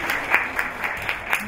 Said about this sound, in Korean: 우리 이민아 교수님 이쪽으로 나오면서 박수 부탁드리겠습니다